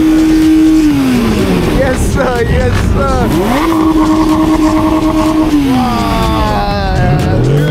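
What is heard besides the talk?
German car engine revving loudly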